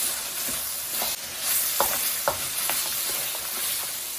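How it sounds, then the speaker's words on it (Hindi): Minced keema spiced with yogurt frying in a pan, a steady close sizzle broken by a few sharp scrapes of a spoon stirring the meat, with no voices. "तो अभी हम इसको भूनेंगे तकरीबन 5 से 7 मिनट"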